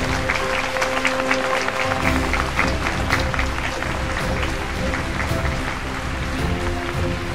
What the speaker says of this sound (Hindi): तो तालियों का बड़ा दौर हो जाए।